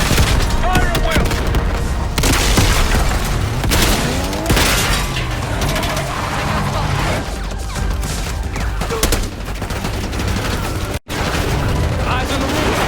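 Dense gunfire in Call of Duty Black Ops 6, continuous loud bursts of automatic and single shots with booming impacts over a full battle din, and shouted voices mixed underneath.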